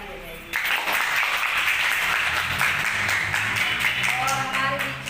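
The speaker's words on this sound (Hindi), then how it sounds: "तो दीदी के लिए मैं चाहती हूँ सब लोग ताली बजाइए" Audience applause at a certificate ceremony for graduates of an advanced beauty parlour and makeup course, a sustained burst of many hands clapping that starts abruptly and carries on steadily, with some voices faintly underneath.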